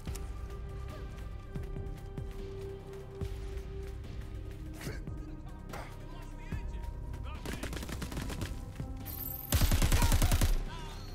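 Crackdown 3 gunfire amid ambient game sound: sparse distant shots and thumps over a humming background, building to several rapid bursts and a loud, dense automatic volley near the end.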